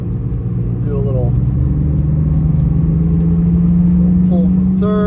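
A 1995 BMW 325i E36 accelerates in third gear. Its engine drone rises steadily and stays loud and close throughout, with a few brief chirps and talk in the background.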